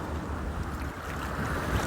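Gentle ocean waves wash onto the beachfront at La Union in the Philippines on a breezy day. It is a soft, continuous rush mixed with wind noise, and no voices are heard.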